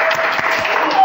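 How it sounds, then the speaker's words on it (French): A congregation bursts into applause, a brief dense burst of clapping with voices mixed in, loud and close throughout. "Waouh, applaudissez pour lui."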